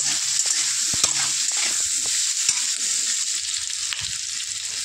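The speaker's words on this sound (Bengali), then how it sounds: "আলুটা দেওয়ার পরে আলুটাও ভালো করে ভাজছি।" Potatoes fry in a wok over onions and bay leaf, a loud continuous sizzle with scattered clicks and scrapes of stirring, close by and without talk.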